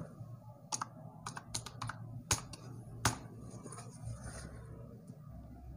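Keys tapped on a keyboard while searching for Gmail in Google: a few scattered clicks, then two sharper strokes near the middle, over a steady low background hum. No one speaks.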